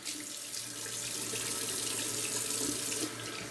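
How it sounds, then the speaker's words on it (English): Cold water runs steadily from a tap into a sink for a rinse after straight-razor shaving, a continuous close splashing stream that goes on alone without any talk. "Let's do a cold water rinse."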